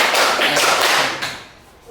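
A child claps hands in a classroom clapping exercise, a few quick taps close by, with some background noise and faint voices around.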